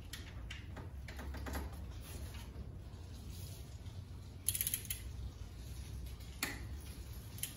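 A torque wrench gives two sharp clicks at its set torque while timing chain work is done on a 2008 Cadillac CTS 3.6 V6 engine, against quiet workshop background noise.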